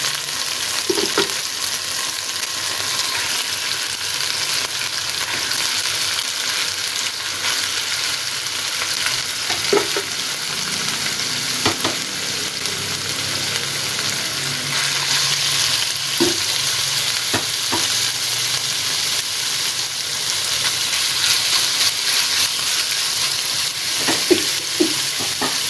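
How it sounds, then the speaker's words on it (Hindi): Minced meat frying with ginger-garlic paste and green chilies for bun kebabs, a steady close sizzle that runs the whole time, with occasional soft stirring scrapes and no voices. "फिर मैंने कीमा इसमें मिक्स कर दिया, अदरक लहसुन का पेस्ट और हरी मिर्चें मैंने इसमें डाली,"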